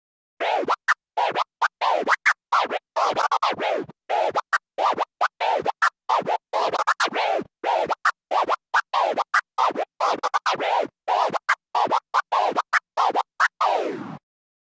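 A DJ scratch combo on a turntable, rapid choppy record scratches in a tight rhythmic pattern across four bars, ending with two boomerang scratches and a drag, crisp and up front with no other sound.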